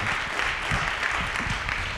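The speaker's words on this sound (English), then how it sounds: "Let's give our friends from Orange a round of applause." Audience applause at a commemorative evening event, a dense, continuous clapping that stays steady and moderately loud throughout.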